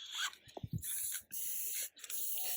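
Hissing bursts from a sprayer treating a garden along two rows, with long steady sprays broken by short gaps and a few low clicks early on, close and fairly loud.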